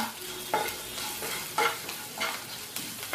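Salt and chopped green chillies fry in a pan while being stirred, a few distinct scraping strokes over a soft steady sizzle, close and unaccompanied by speech.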